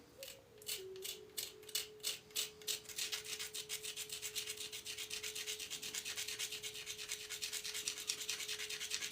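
A stone tool's hafting area is ground against an abrasive, producing a steady, rapid back-and-forth rasping that starts in slower strokes and settles into a fast continuous rhythm, close and fairly loud, with a faint tone underneath.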